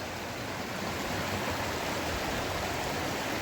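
Water rushes steadily through a moving stream at a cold woodland water crossing in state game lands, a close, continuous wash of noise with no voices.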